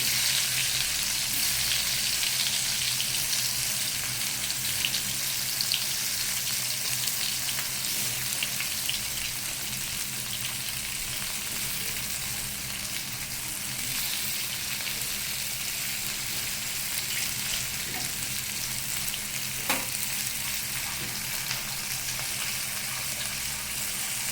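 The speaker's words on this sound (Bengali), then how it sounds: "এরকম সুন্দর করে আস্তে আস্তে করে লাল লাল করে ভাজতে হবে করলাগুলোকে" Bitter gourd (karela) pieces fry in hot oil in a pan, giving a steady, dense sizzle that carries on unbroken and fairly close throughout, with no speech.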